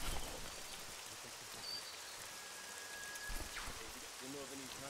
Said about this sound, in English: I think it's raining.